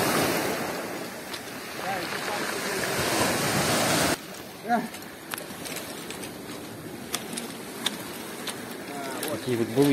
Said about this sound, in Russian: Ну посмотри, какие волны красивые.